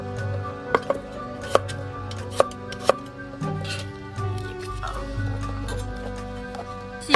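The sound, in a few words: chopping garlic finely with a knife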